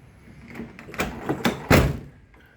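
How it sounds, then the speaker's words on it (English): Old doors on a cheap beater car are shut one after another, a series of thuds and rattles that ends in one loud final slam. "The doors don't close that easy,"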